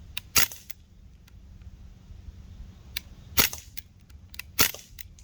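Crosman DPMS SBR CO2 BB rifle firing, several sharp close pops with faint metallic clicks and light rattling between shots over a low background hum.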